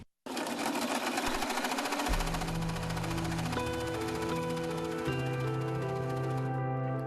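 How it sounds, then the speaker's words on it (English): A sewing machine stitches close by in a fast, steady rattle that runs almost without pause, with soft sustained music tones underneath. "Christy Pugh finds strength at her sewing machine"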